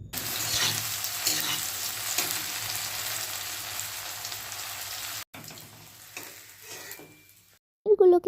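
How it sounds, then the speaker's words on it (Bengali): Cubed paneer fries in hot oil while being stirred, a steady close sizzle with scraping for several seconds, then a quieter stretch, a brief pause and a short voice at the end. "পনির কেটে রাখা পনিরগুলো দিয়ে হালকা নাড়াচাড়া করে ফ্রাই করে নিতে হবে।"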